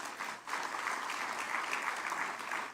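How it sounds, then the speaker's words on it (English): An audience at an Africa business summit held in the USA gives a round of applause, a dense, steady wash of clapping heard at a moderate distance and fairly quiet, swelling in just after it starts. "Please give yourselves a round of applause."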